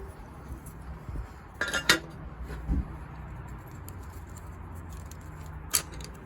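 Metal knives and clamp parts clink and tap against a steel grinding jig as a blade is unclamped, swapped for another and clamped again, a few sharp scattered knocks over a quiet workshop background.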